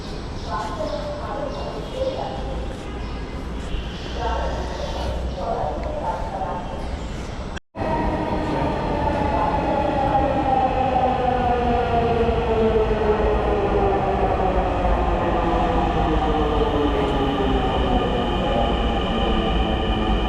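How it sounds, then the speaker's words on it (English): A train on Dhaka's newly built metro line rolls in with a rising, droning rumble and screeching wheel tones, growing steadily louder and continuing for many seconds. "We might as well wait 1 minute for the train."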